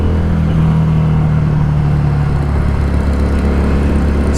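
The engine of a 2017 Harley Davidson Street 500 motorcycle drones loud and steady while riding, a low rumbling hum with wind noise, continuous and close.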